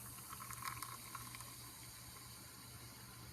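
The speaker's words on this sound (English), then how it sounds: "As you can hear, there's fizzing, there's bubbles being formed, it's foaming, and Mr. Varela is going to fill the beaker" Baking soda solution poured into calcium chloride solution in a beaker fizzes and foams with quiet, continuous bubbling, faint and close, with a few brighter crackles early on.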